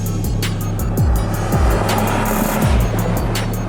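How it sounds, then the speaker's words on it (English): Mercedes-Benz G63 driving through town, a loud deep engine drone with several short revving swells and ticking from the moving car, no one speaking. "how effortlessly this car moves around town"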